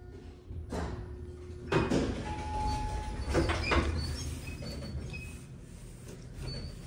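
A vintage lobby elevator at an MIT architecture school building shuts its door with a few clunks and rattling sliding noises over a low hum, loud and close.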